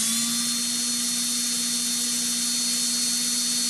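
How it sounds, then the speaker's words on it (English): A Stanley Fatmax cordless drill runs at steady speed, a constant high-pitched motor whine with a pure tonal hum, close and loud throughout with no pauses or voices. "Now I'm just going to pull the trigger on the drill"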